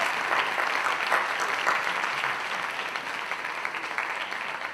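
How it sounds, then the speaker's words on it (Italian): Sustained applause from a conference audience after a talk, a continuous wash of clapping that stays fairly even and tapers slightly toward the end. "Applauso Daniele"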